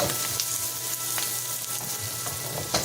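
Garlic sizzles and crackles steadily in a frying pan while being stirred, with faint scraping under the constant hiss at close range.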